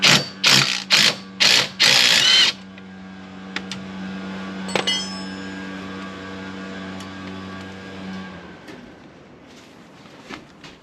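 Several loud ratcheting bursts from a hand ratchet wrench loosening a bolt on Jeep WJ suspension to reach a bushing, followed by a quieter stretch with faint metallic clicks and clanks.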